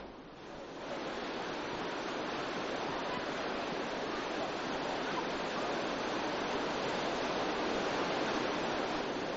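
Tomara waterfall near Şiran in Gümüşhane, Turkey, roars as a steady, dense broadband rush of falling water that stays loud and unbroken throughout, with no voices.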